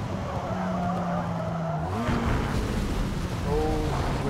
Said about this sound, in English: We've actually flipped the Mini over.